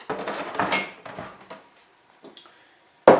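Clattering and scraping of a chopping board and utensils being cleared in a kitchen while an Irish stew simmers, with a few knocks spread out and one sharp clack at the end.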